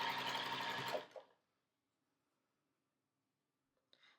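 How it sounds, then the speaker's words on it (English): Sewing machine running a quarter-inch seam through quilt fabric, a steady loud whir of stitching for about a second before stopping, followed by silence and a faint brief rustle near the end. "and just sewing that 1/4-inch seam"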